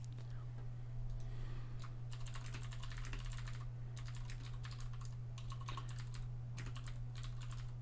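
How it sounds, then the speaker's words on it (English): Typing on a computer keyboard during an online Magic card game draft, with bursts of rapid clicking keystrokes separated by short pauses over a steady low electrical hum, close and clear, without speech. "Why am I typing this?"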